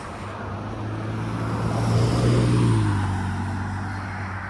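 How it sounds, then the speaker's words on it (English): Steady road traffic on a Friday night, with a continuous low engine rumble and tyre hiss as a vehicle passes close by, swelling to a peak midway and easing off again. "quite a bit of traffic"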